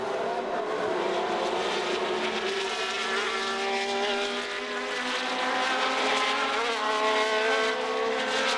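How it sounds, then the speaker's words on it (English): Several 1970 Formula 1 cars roar off the start line together, a loud, sustained, rising engine howl with overlapping pitches that stays dense and close throughout. "as the field, minus Eamon, whose clutch had failed, erupted across the line"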